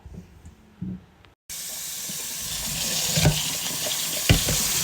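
Tap water runs into a sink while fruit is washed, a steady close rushing stream that starts abruptly after a brief quiet moment with a few soft knocks.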